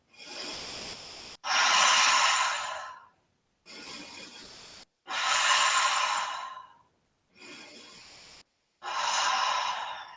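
Deep yoga breathing in a studio class: three slow cycles, each a quieter airy inhale followed by a longer, louder breathy exhale through the nose or mouth, separated by brief silences, close and unaccompanied by talk.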